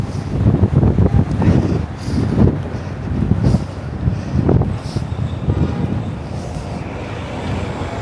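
Wind gusts buffet the microphone during a cold walk through Central Park in New York City, with low, rumbling surges that rise and fall continuously, loud and close.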